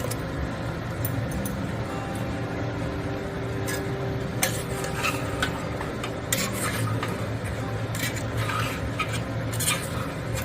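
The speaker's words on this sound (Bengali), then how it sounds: "এবারে নাড়াচাড়া করে নুন দিয়ে দেবো পরিমাণ মতো।" A spoon scrapes and stirs mutton curry masala with ginger, garlic, chillies and tomato paste in a pan, a continuous close scraping with metallic clicks and no talk.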